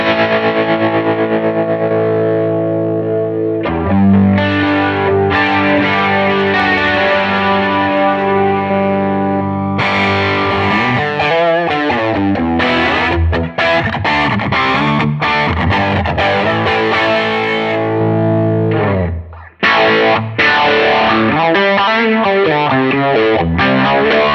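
Distorted electric guitar played through a guitar modelling platform's effects plays chords and riffs drenched in effects, with chorus shimmer and echo, loud and continuous apart from a couple of brief breaks.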